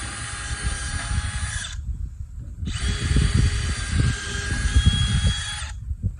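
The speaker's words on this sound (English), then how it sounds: "I like to pre-drill." A power drill whines loudly in two long bursts, pausing briefly between them, pre-drilling holes into a wooden mailbox post up close.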